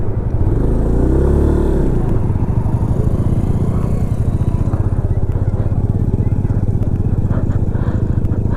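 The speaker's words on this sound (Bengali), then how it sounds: "এখানে মানে বাইক চালালে কিছু হচ্ছে না, কিন্তু দাঁড়ালে হচ্ছে বাইক বসে যাচ্ছে।" A motorcycle rides over soft beach sand, its engine a loud, continuous close drone with a steady throb and rushing wind, without clear revs.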